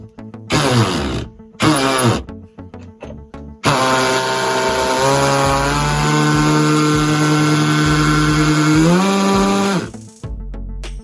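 A power drill with a hammering attachment drives nails in short loud bursts, then in one long sustained rattling whine that drops in pitch before stopping.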